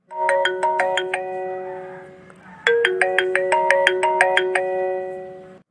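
A phone ringtone plays as a repeating melodic chime, a bright run of tones that pauses briefly and then starts again, loud and clear with no voices over it.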